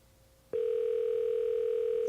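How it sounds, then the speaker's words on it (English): A steady telephone dial tone starts abruptly partway through and holds loud and continuous as a caller is being added to a phone call, with quiet background hiss before it begins. "Hold on. Let me add Benny in."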